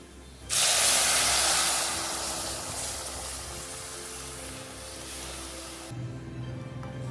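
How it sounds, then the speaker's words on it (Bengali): Masoor dal is poured into a hot tempering of fried garlic and onion, setting off a sudden loud sizzling hiss that slowly eases into a steady crackle for several seconds before dropping off. "খুব সাবধানে আমি ডালটা ঢেলে দিচ্ছি"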